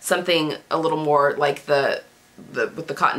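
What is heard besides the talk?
No everyday noises stand out.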